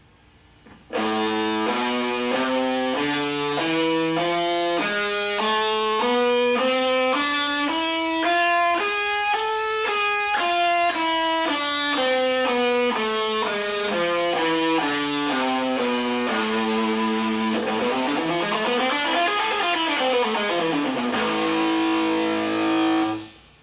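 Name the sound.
electric guitar playing A harmonic minor scale, Egyptian-like sound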